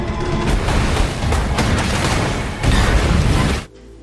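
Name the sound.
gunfire and explosions in film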